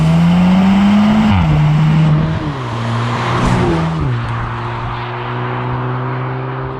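A 2019 Cupra Ateca 300HP SUV with a louder exhaust being driven hard: a strong, close engine drone that steps down in pitch at quick gear shifts, with road and tyre roar underneath.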